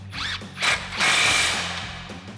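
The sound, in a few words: ratchet with 21mm socket tightening Jeep steering knuckle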